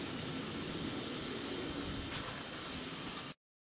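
Steak searing on a high-heat surface, a loud, steady broadband sizzle and hiss that continues evenly for over three seconds before cutting off abruptly, with no voices.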